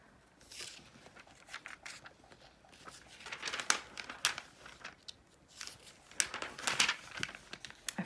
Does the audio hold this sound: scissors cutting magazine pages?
yes